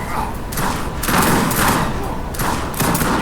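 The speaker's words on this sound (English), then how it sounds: "That's actually a pretty good grenade throw" Explosions and thuds from a grenade blast in the Age of Empires 3 strategy game sound in bursts over game ambience, repeated booming impacts.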